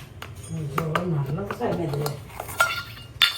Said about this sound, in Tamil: இந்த ஓமம் பார்த்தீங்கன்னா இப்போ நம்ம வறுத்துக்கலாம்